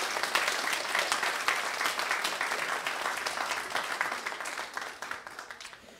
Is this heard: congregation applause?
yes